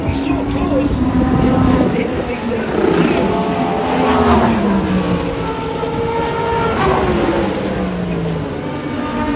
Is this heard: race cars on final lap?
yes